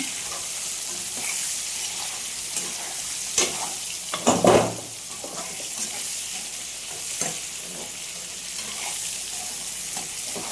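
Small whole bitter gourds fry in plenty of oil for a tempering, giving a steady close sizzle. A louder burst of spattering comes midway, with occasional stirring clinks and no voices.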